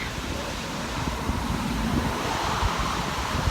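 Steady, loud wind roaring across the microphone outdoors beside a river, a continuous broadband rush with slight gusting and no pauses.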